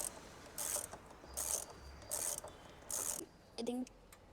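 A ratcheting wrench works at a motorcycle brake caliper during a pad and tone ring repair, with several short bursts of quick ratchet clicks separated by pauses and a faint metallic tap.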